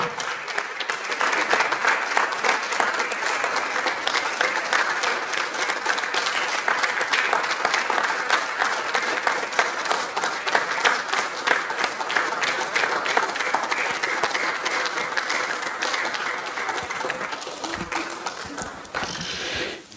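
Standing church congregation gives sustained applause for about fifteen seconds during a Spanish-language service, a dense, even wash of many hands clapping at steady loudness before cutting off at the end.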